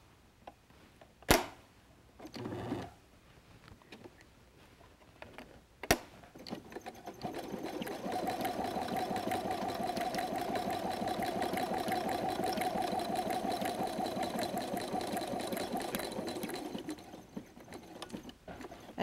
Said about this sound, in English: stitch over it a second time.